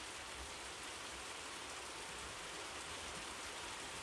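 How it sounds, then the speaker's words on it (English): Rain falling during a thunderstorm, a dense, even hiss of drops with no breaks, soft and steady throughout. "Just you and me and the sound of the rain."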